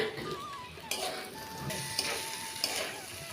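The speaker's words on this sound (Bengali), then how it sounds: "বেশ কিছুক্ষণ ডালটিকে নেড়ে চেড়ে নিয়ে আমরা দিয়ে দেবো ভেজে রাখা আলু এবং পেঁপে।" Mung dal is stirred in a hot pan with fried potato and papaya for ghonto, making a brief, loud sizzle broken by metal scrapes and a few squeaky spoon strokes close by.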